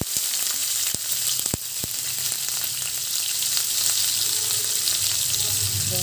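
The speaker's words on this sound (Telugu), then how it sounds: "ఉల్లిపాయ ముక్కలు వేసుకుందాము" Chopped onions fry in hot oil with mustard seeds and cumin in a pan, giving a steady close sizzle broken by a few sharp pops and light clinks from stirring.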